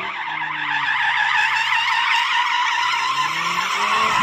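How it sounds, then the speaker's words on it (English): Audi RS3 drifting in its drift mode, tyres skidding and squealing continuously with a steady high screech over a low engine drone, loud and close throughout with no talk. "And this is me drifting an RS3."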